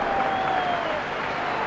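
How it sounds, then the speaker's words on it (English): Crowd applause at a 1982 Barnsley v Burnley football match, a steady broad roar of clapping filling the whole stretch at close, even loudness, with a faint whistle tone running through. "who runs back to the applause of the crowd"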